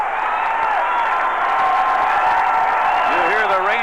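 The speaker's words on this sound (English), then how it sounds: "You hear the Ranger crowd trying to root home a 20-game winner here tonight" Crowd at Arlington Stadium cheering and clapping for a Texas Rangers pitcher chasing his 20th win against the Minnesota Twins, a steady roar of applause and whoops that swells toward the end.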